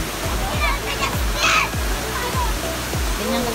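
Bolinao Falls in Pangasinan pours as a steady, close waterfall roar, with splashing water and people talking and calling out over it.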